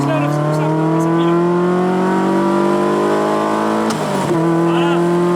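A light car with no ABS or driver aids revs hard and accelerates, its loud engine tone climbing steadily, then dipping briefly at a gear change before pulling again.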